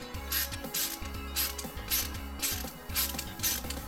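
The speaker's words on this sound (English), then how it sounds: "First thing I want to do is screw on that hazard button." Ratcheting screwdriver or driver clicking in steady bursts while a hazard button is screwed onto a car's stereo-delete plate, close and clear with a repeating rhythm of turns.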